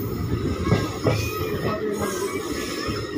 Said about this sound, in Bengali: ট্রেন এখন এসে পৌঁছালো পরানপুর রোড স্টেশন।